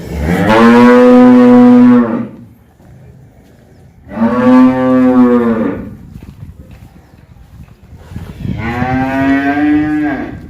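Three long, loud moos from a Holstein Friesian cow, each lasting about two seconds, separated by short pauses with low background noise.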